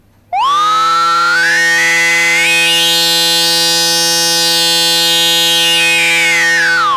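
A loud, piercing resonant tone from a kNoB technology ARLPG synth filter sweeping upward, holding a bright, shrill ringing peak, then sliding back down, steady and sustained with a low hum underneath.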